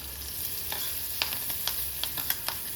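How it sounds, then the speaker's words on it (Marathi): Green chilies, finely chopped garlic and curry leaves frying in a pan: a steady soft sizzle with light scraping clicks of stirring, close and fairly quiet, with no voices. "मिरच्या थोड्याशा आपल्याला भाजून घ्यायच्या आहेत,"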